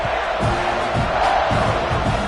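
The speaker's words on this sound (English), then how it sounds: "this crowd now ready to get behind them." A football stadium crowd at a kickoff roars in a dense, loud, continuous wall of cheering and yelling, with rhythmic swells of chanting.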